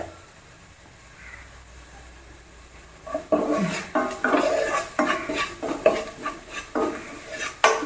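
Ingredients are sautéed with meat masala in a pan and stirred with a utensil. After a quiet start, close, rhythmic scraping and clattering strokes repeat steadily against the pan, with a faint sizzle underneath.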